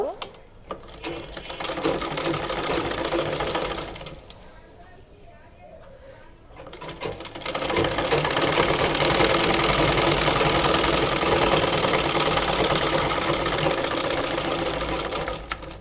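A sewing machine stitches a khimar hijab, a loud, close, fast mechanical whirring that runs for about four seconds, pauses for roughly three, then resumes steadily through the end.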